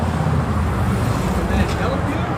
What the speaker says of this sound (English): I can't hear you because of traffic.